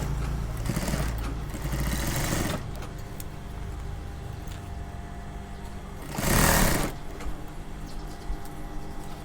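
A sewing machine sews a long zip into coveralls, starting at the crotch. It whirs in a sustained run at the start and again in a shorter, louder burst later, with quieter handling noise between.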